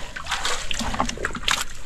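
Water splashing and sloshing in quick bursts as a snakehead fish thrashes and jumps at the surface, close by with a continuous wet churn.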